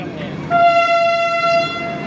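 A Vande Bharat train on the move gives one loud, close horn blast of about a second, a steady tone over a low rolling rumble.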